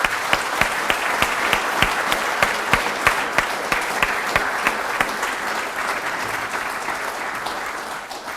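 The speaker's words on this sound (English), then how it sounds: "Can I invite everyone a final round of applause for the wonderful people we've invested" Sustained applause from a ceremony audience at a Government House investiture, a dense wash of clapping with steady regular claps standing out at first, then thinning gradually toward the end.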